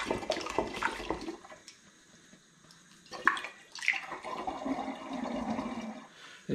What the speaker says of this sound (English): I'm just chucking all my juices into the demijohn.